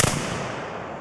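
A musket volley at a Civil War reenactment, one sharp loud blast at the start that rings out and decays over about a second, close by, outdoors.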